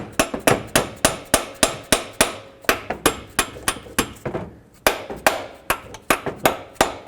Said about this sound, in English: So you can take a rubber mallet and just gently tap it.